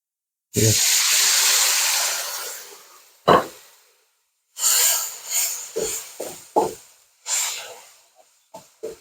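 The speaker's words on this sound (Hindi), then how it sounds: "ये हमने 1 कप पानी डाल दिया इसमें।" Water from a cup poured into sizzling shrimp curry masala in a hot pan, a loud hissing rush that fades, followed by several shorter sputtering bursts as the liquid hits the spices.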